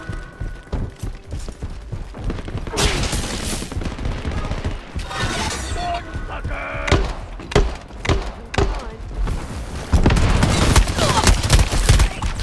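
Gunfire from the Shatterline video game, with dense, rapid bursts of shots and heavy impacts running throughout, loud and busy, growing more intense toward the end.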